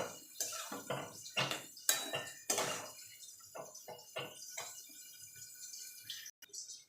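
A spatula scrapes and clatters against a pan as banana flower is mixed into cooked spices, in irregular close strokes with short pauses between them and a clean stop at the end.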